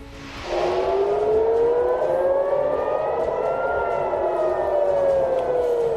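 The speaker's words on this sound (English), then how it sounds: "Air raid sirens sound in Tel Aviv and other parts of Israel" A wailing air raid siren in Tel Aviv, Israel, during an Iranian attack starts abruptly and holds, its pitch slowly rising and falling, loud and alone with no talking.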